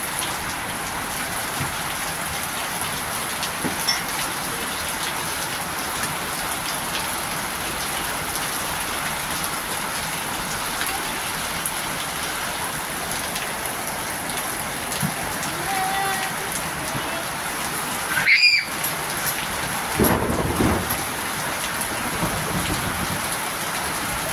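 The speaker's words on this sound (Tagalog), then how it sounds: "Kumukulog pa, kumukulog." Steady heavy rain drums on a damaged home roof throughout, with a brief louder burst and a low rumble of thunder near the end, and faint voices in the background.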